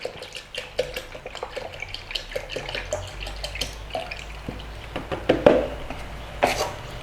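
Tinned tomatoes are poured into a blending jug with a series of wet plops, splats and small clunks, close and moderately quiet, irregular over several seconds.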